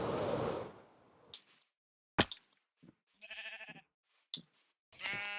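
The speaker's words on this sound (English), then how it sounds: "there are some sheep over here." Blocky video-game sheep bleat in a modded Minecraft-style survival world, with several short separate calls spaced apart in a quiet scene, each one a clear, nasal, mid-loud bleat.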